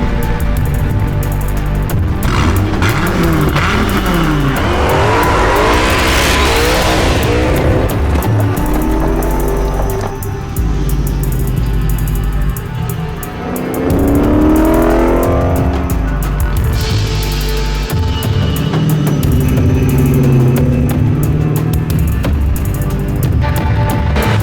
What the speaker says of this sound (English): Dodge Viper, created like no other car in the world.